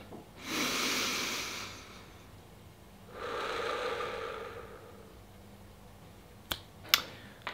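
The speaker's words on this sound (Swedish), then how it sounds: "behöver bara ta några djupa andetag" Two long, deep breaths, each drawn in and let out over about two seconds, are taken alone in a quiet room before a podcast. A few sharp clicks follow.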